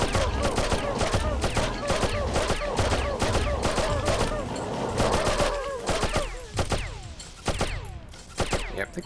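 Rapid gunfire rattles through a slug-shooting section of the video game Oddworld: Abe's Oddysee, with dense, crackling volleys of shots packed closely together, thinning into sparser, separate bangs toward the end.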